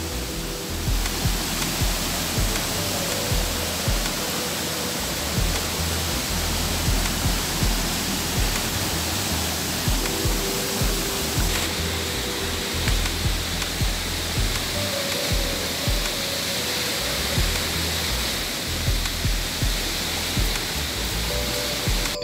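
A river waterfall in Rondônia in the Amazon, with a drop of about 4 metres, gives a steady, loud, broadband roar of rushing water that runs unbroken throughout, with no voices.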